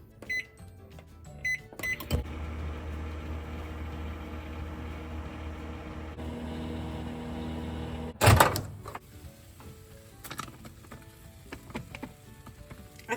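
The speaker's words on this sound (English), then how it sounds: "I'm gonna microwave this for 90 seconds." A microwave oven hums steadily while heating packaged street food, with a door clunk and beeps before it starts and a sharp clatter near the end.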